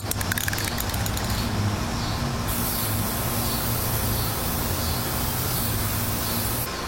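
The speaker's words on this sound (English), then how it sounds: "So here we go. We're gonna spray it. It's for metal, wood, and plastic." Aerosol spray paint for metal, wood and plastic hissing steadily onto a mask, one long continuous close spray lasting several seconds.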